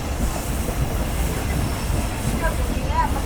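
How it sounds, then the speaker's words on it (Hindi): The Pak Business Express train runs at speed through Hyderabad, giving a steady loud rumble and hiss of wheels on rails, heard continuously from inside. "तो एक एक्सटेंडेड स्पीड को फॉलो करते हुए ट्रेन हमारी हैदराबाद में चल रही है फ़िलहाल"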